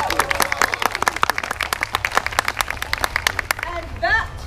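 An audience claps at a theatrical medieval court introducing a king, with rapid, crisp hand claps in a steady, lively patter for several seconds before tapering off as someone speaks over the final moments.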